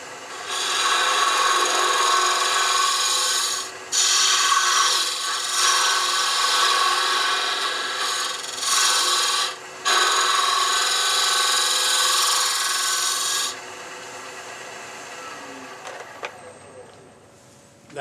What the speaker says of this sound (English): That was with the carbide round cutter.